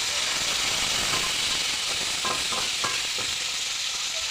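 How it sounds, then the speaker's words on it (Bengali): Silver carp fry in a pan with a loud, continuous sizzle, overlaid in the middle by a few scraping stirs of a utensil against the pan. "কি সুন্দর মাছ পাখি ভাজা হয়ে গেছে লাল লাল করে"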